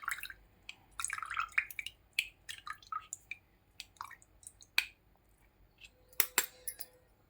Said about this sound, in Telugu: క్యారెట్ జ్యూస్ని అయితే ఇందులో పోసేసుకుందాము. ఇవేనా వాటర్ అంటే ఇలా కిందకి వచ్చేస్తాయి అన్నమాట.